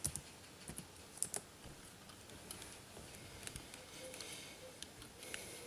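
Typing a microphone product name, Beard UM1, on a computer keyboard: faint, scattered key clicks and taps in short bursts, fairly quiet and close, with no talking.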